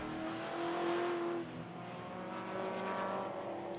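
Classic racing cars, among them a green Triumph TR8, cresting a hill at a club sports and saloons race, with a sustained engine note that swells and rises in pitch, then drops slightly and carries on, heard at moderate distance.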